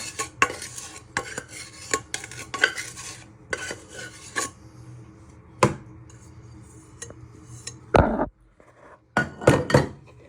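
Fruitcake mixture being scraped out of a bowl with a wooden spoon, a run of sharp clacks and scrapes against the bowl, irregular and close, with brief quiet gaps between bursts.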